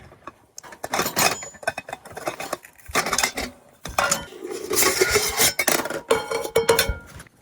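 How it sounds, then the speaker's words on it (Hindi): A camping cooking pot handled outdoors in a snowy mountain pass, with close clanks, scrapes and rattles of metal coming in uneven bursts separated by brief pauses. "ये हमारा सूप जिसमें बनेगा वो वाला बर्तन आ गया भाई साहब"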